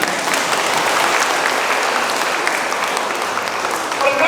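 Audience at a motivational dharma-sharing talk claps steadily in a dense, sustained round of applause, with no voices on top.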